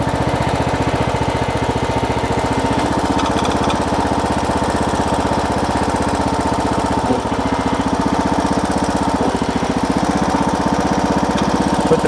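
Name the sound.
riding lawn mower engine running while driving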